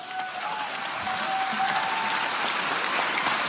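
Steady, dense applause from a studio audience at a talk-show style event, filling the whole stretch at an even level with a faint hint of crowd noise and no clear speech.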